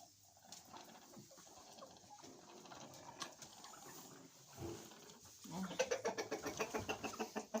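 Hens clucking inside a chicken coop in poor weather, at first soft and scattered, then swelling into a close, rhythmic run of repeated clucks toward the end.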